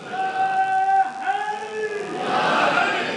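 A crowd at a majlis in Sialkot chants religious slogans, a sustained voiced call followed by a louder, broader surge of many voices answering together.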